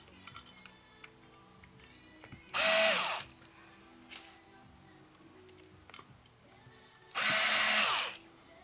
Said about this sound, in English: Just put the screws in a few turns each